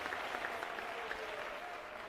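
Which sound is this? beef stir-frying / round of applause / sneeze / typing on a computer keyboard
round of applause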